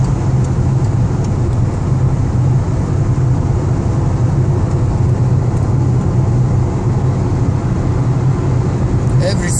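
A car with a 1.4 TSI 122 hp CAXA turbo petrol engine, repaired after a low-boost power-loss fault, pulls with a loud, steady, unbroken engine and road drone from inside the cabin.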